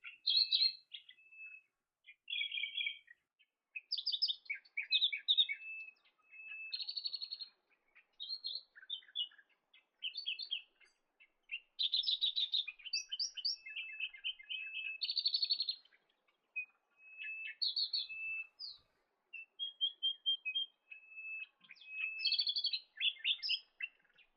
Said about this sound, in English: Sharp-tailed sandpiper migrate from northern Siberia to the freshwater wetlands of the New England each summer.